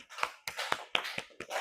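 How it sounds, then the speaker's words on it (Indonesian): Classroom clapping for a student group, a short series of sharp, separate hand claps or taps in an irregular rhythm, fairly close but quiet. "Beri tepuk tangan untuk kelompok"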